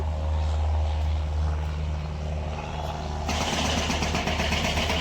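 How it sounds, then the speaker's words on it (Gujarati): A steady low engine drone of an airplane passing overhead, fairly loud throughout, joined partway by a broad rushing noise. "જો વિમાન જાય હવે ઉડશે વિમાન એ રહ્યું"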